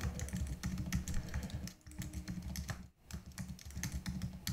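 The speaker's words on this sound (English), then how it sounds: "Hopefully I type the same." Steady, rapid typing on a computer keyboard while a local user account and password are entered, with dense close-up key clicks over a low background hum and one brief pause near the middle.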